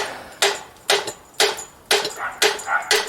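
Hammer taps on a stuck brake drum of a VW independent rear suspension trailing arm being knocked loose: about six sharp, fairly loud metallic knocks at an uneven rhythm, each with a brief ring, no talking.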